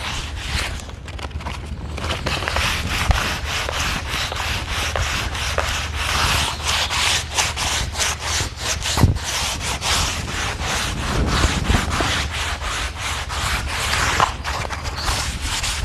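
A wooden staircase is rubbed down by hand with sandpaper in long, continuous scraping strokes, loud and close, with no one speaking throughout.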